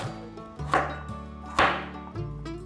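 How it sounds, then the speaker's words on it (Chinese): A knife cuts taro into thin slices on a cutting board, giving a few distinct chops spaced roughly a second apart over a steady background hum, with no voices. "切一半，再切成薄片。"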